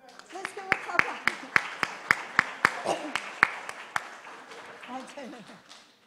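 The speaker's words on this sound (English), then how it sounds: "Let's give him a clap out" A small audience claps a departing doctor out of a lecture room, a quick run of sharp, distinct claps close by with people talking over them, fading into chatter.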